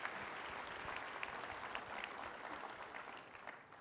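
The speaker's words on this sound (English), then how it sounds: "j'espère voir tout le monde m'applaudir" An audience at an accessibility and inclusive design briefing claps in a dense, steady round of applause, fairly faint and heard from a distance, fading slightly at the end.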